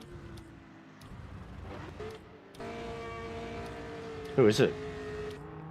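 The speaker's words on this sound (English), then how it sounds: "Who's doing the burnout?" A car revs and holds a steady engine drone during a burnout in the pits of a racing video game, fairly faint and continuous, with players' voices talking over it.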